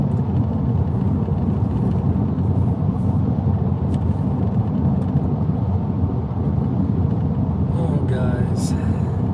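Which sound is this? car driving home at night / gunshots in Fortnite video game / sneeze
car driving home at night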